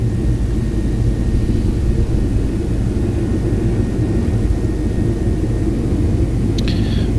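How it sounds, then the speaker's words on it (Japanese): Loud, continuous low rumble of an airplane rattling as it accelerates down the runway at Naha for takeoff, with a steady roar and shaking vibration throughout. "ガタガタ揺れながら加速して飛行機が飛んでいきます。"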